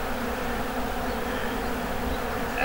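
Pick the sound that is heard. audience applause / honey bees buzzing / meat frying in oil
honey bees buzzing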